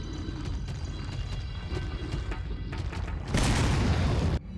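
A normal grenade goes off in Resident Evil 4, with a heavy booming burst near the end after a stretch of rumbling, thudding game action.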